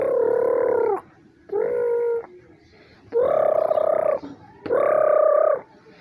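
A white chicken gives repeated loud, drawn-out calls in four separate bouts with short pauses between, close and clear, and nobody speaking.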